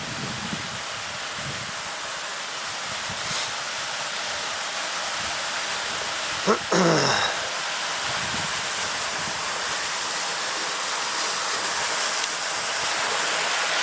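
A waterfall right beside a trail in the Bob Marshall Wilderness, a steady broad hiss of falling water close by, with a brief rustling disturbance partway through and no talking.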